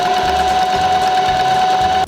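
Sewing machine stitching a patchwork star seam, a loud, close, steady motor whir with a rapid needle chatter running unbroken for about two seconds before stopping abruptly.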